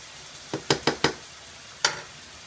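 Flour being stirred into hot oil in a pan, with a faint steady sizzle underneath and a handful of sharp scraping knocks of the spoon against the pan, four grouped close together and one more after a pause.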